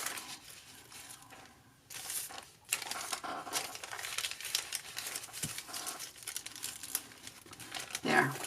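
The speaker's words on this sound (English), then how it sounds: "Put some parchment paper in there." Sheets of parchment paper crinkle and rustle in bursts while layering glue-covered envelope ephemera in a mixed-media craft project, with a soft voice speaking between the crackles.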